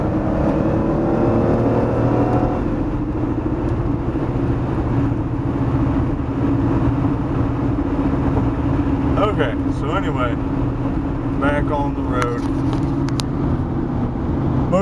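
A heavy semi truck rolls past on a rural road, its engine drone and tire roar loud and steady throughout, with brief voices in the background near the end.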